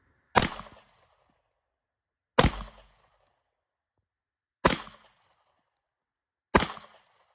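Four sharp, loud pistol shots from a Taurus GX4 Carry at a shooting range, evenly spaced about two seconds apart, each a crisp crack with a short decaying tail and silence between.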